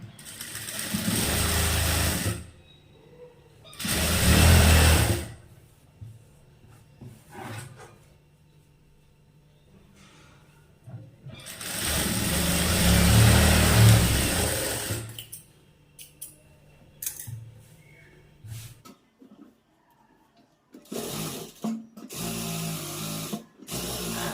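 Tailor's sewing machine stitching a seam in cloth, two bursts of motor whir and needle clatter separated by quiet handling noises, close and moderately loud, with no talking.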